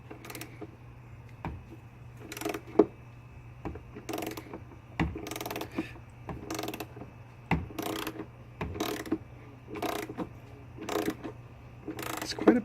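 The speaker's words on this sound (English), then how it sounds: "I got my torque wrench. Might be a bit excessive for putting on a filter" A torque wrench turns an oil filter onto a Maserati Levante, producing short ratcheting click bursts at a fairly steady pace over a low hum, close by and with no speech.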